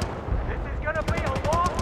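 Rapid automatic gunfire in the Battlefield Bad Company 2 cold war campaign, a fast rattling burst of shots with someone talking over it, loud and close.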